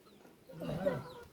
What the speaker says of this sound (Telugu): కోడి పుంజులు మంచిగానే పెద్దగా అయినాయి.